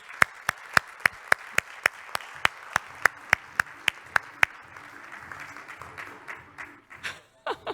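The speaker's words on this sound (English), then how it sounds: "give him a round of applause" At a conference event in Helsinki, an audience claps for a keynote speaker. Sharp, evenly spaced claps ring out in a steady rhythm for about four seconds, then fade into faint, scattered room noise.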